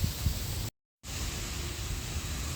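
Strong wind buffets a microphone outdoors on a grey, rain-threatening evening walk, a continuous rushing roar that cuts out briefly before resuming.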